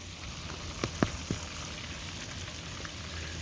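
Catfish and shrimp fry in oil with a steady, hissing crackle, punctuated early by a few sharp pops.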